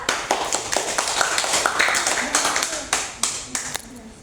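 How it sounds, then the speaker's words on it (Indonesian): A classroom audience claps for a presenting group during a biology microteaching session, sharp overlapping handclaps going steadily for several seconds with scattered louder individual claps. "berikan tepuk tangan untuk kelompok 2"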